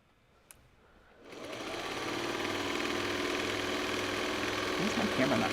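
Sewing machine stitching a quilt block for a granny square pattern, starting after a brief quiet moment with a small click, then running steadily and fairly loud in a continuous mechanical whir and rattle.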